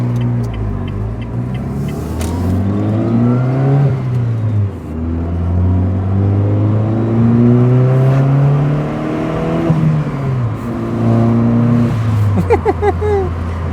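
A Renault Wind's engine revs repeatedly, rising and falling in long sweeps with a throaty exhaust note, loud and close, with a few small pops near the end.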